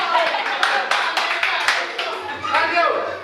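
An audience applauding after a storytime reading, a short burst of close, brisk hand clapping that fades slightly, mixed with voices speaking over it.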